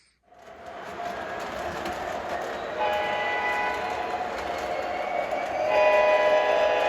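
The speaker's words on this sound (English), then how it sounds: "I'll have the trains running around for you guys" Model trains run around a layout, a steady rolling rumble with bright tonal whistle or horn notes building in layers and growing louder toward the end, with no talking.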